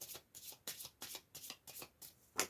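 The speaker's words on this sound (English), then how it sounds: "let's just shuffle one more time." Tarot cards are shuffled by hand in a quick series of about seven crisp riffling bursts at an even rhythm, close and clear with no talking.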